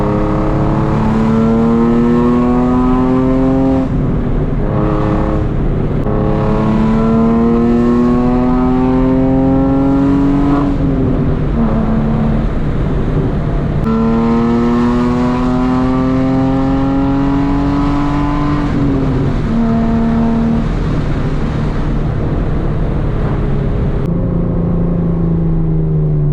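Nissan 350Z cruising on the freeway, its engine droning loudly from inside the cabin with rising tones through the gears, steady road noise underneath, and no talk.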